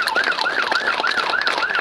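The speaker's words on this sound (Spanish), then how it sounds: "comienzan a sonar las sirenas de la ambulancia para despedir a esta trabajadora social" Ambulance sirens wail at a funeral for a health worker, a loud, close, regular up-and-down electronic sweep that repeats about every quarter second with no talking.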